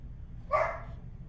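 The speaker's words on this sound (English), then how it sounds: "The dogs have decided, that the trees are moving, so they have to bark at them." A dog barks once, a single sharp bark standing out briefly over low background rumble, at moderate distance.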